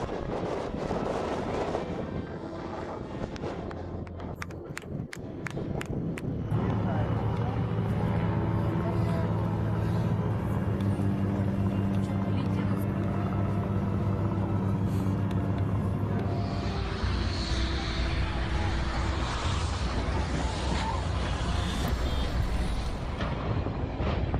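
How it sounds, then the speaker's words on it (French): Aerosur Boeing 747 making a low pass without landing gear, a loud jet roar that swells and holds as the airliner sweeps close overhead, with wind buffeting and rumble beneath. "Ce passage à basse altitude d'un Boeing 747 d'Aerosur sans train d'atterrissage était à la fois fou et spectaculaire."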